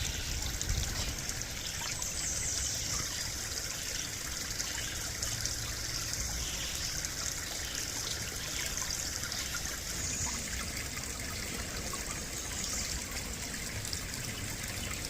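Water trickling steadily at a small spring beside a hiking trail, a continuous faint bubbling outdoors with no voices.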